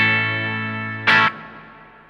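Vahlbruch Pipeline reverb pedal on its natural setting: a held note rings out with a smooth reverb tail, then a short bright burst of noisy sound cuts in before a decaying wash, played alone.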